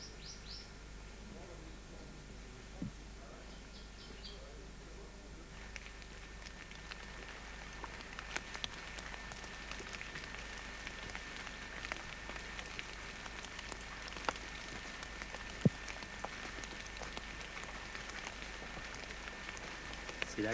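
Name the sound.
rain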